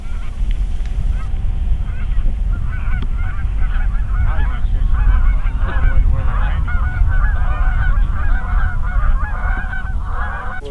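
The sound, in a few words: geese honking during a North Dakota hunt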